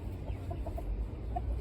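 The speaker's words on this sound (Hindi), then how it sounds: "और ये हमारा पागल मुर्गा," A rooster gives a few short, soft clucks over a low, steady background hum, fairly close, with no talking.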